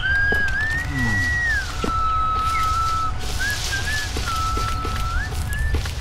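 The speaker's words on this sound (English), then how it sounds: "I thought she was whistling Game of Thrones then." A character in the horror video game Dreadout whistles a wavering tune, a clear sustained melody running the whole stretch over low rumbling ambience with faint scattered knocks.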